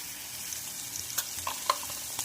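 Onion frying in a pan with turmeric powder, salt and garam masala added, giving a steady soft sizzle with a few brief crackles and stirring clinks, heard alone and fairly faint.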